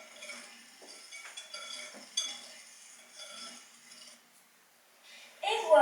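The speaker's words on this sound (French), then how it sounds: "je recommence encore une fois à mélanger" Apple cake batter is mixed in a bowl, giving soft clinking and scraping of a utensil in an uneven rhythm. A short pause follows, then a louder knock close up at the end.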